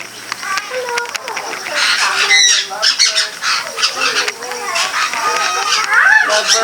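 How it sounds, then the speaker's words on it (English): Lovebirds squawk and chatter in shrill, repeated calls at a nature sanctuary, with people talking nearby. "Lovebirds. Are those lovebirds?"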